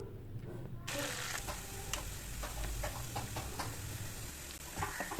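Sliced onions and curry leaves sauté in a pan for a spring onion poriyal, making a soft, even frying hiss with light ticking and stirring taps that begins abruptly after a quiet moment.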